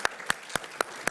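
Five sparse, evenly spaced hand claps ring out, fairly faint and isolated, suggesting only a few people clapping at a reunion panel.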